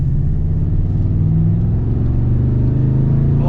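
Toyota Tundra TRD Pro with a V8 engine accelerating, giving a loud, steady, close engine rumble with no talking.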